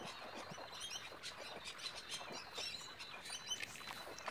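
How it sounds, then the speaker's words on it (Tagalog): Birds chirping in roadside trees in Australia, many faint high tweets and calls overlapping in a busy chorus over a soft background hiss, with no voices. "Yung naririnig mo mga uni ng ibon"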